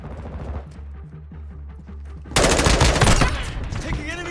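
Rapid automatic gunfire bursts out loud and close in a Call of Duty match, a dense sustained volley that follows a quieter stretch of game sounds.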